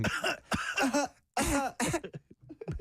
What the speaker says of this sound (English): I think I'm coming down with a cough.